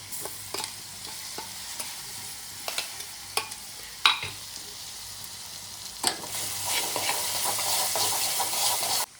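Green chilies and salt tossed into mustard seeds and turmeric crackling in hot oil, with sharp spatula clicks and pops over a light sizzle that swells into a loud, steady frying hiss near the end.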